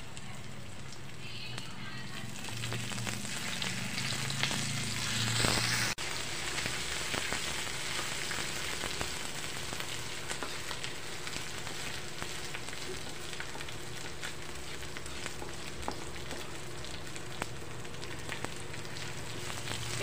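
Cumin seeds and masala frying in oil for a vegetable pulao gravy, a continuous crackling sizzle with some stirring, and a voice speaking at moments.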